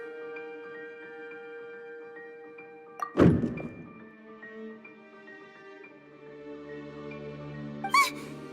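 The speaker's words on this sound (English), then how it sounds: "I seem to have accidentally knocked over a decoration." A decoration knocked over in Genshin Impact lands with a solid thunk at about three seconds and a brief rattle, followed by a faint squeaky electronic blip later, over soft game background music.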